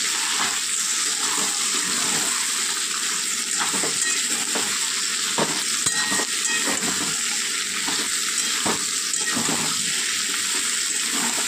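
Cut vegetables frying in hot oil for a Bengali fish dish, a loud steady sizzle with repeated stirring scrapes at a regular rhythm, close and continuous.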